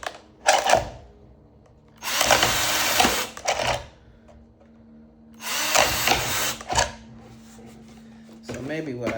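A power drill whirs in two long bursts separated by pauses, with a few shorter spins and some handling noise between them.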